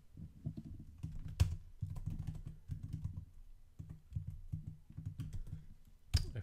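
Quick, close keystrokes on a computer keyboard while Python code for a card deck is typed, coming in steady bursts with short pauses and no talking.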